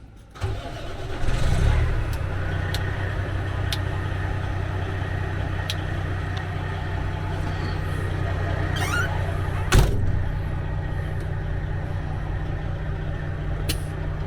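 A rat rod car engine cranks and catches about a second in, then settles into a steady, loud, rumbling idle that runs throughout, with a brief clatter near the ten-second mark.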